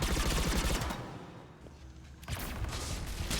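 Rapid bursts of space rifle fire from the video game Mass Effect 3 come loud and close, with a dense volley, a short lull, then another burst of automatic fire.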